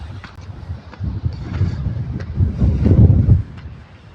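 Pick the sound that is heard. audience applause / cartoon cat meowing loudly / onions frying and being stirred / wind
wind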